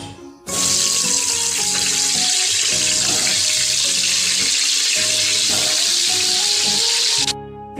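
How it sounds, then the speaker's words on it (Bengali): Potato pieces rubbed with turmeric and salt hit hot oil left from frying onions for mutton biryani, setting off a sudden loud, dense sizzle that roars on steadily for several seconds before cutting off. "এবার বেরেস্তা ভাজা তেলের মধ্যে আলুগুলো দিয়ে দিলাম"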